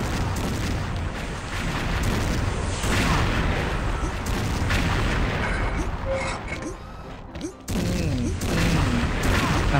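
Continuous gunfire and explosions from the XSHOT online shooter game, dense booming bursts and shots running through the whole stretch with a brief dip near the end, loud and busy, with talk faintly mixed in.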